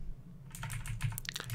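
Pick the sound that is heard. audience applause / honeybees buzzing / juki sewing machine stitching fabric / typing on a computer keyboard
typing on a computer keyboard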